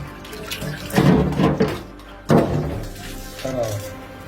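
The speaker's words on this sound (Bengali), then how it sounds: "এই যে মাংসগুলো ধুয়ে নিতেছি খুব ভালো করে" Raw broiler chicken pieces being washed in a sink under a running tap produce close splashing bursts of water that come and go, with talk over them.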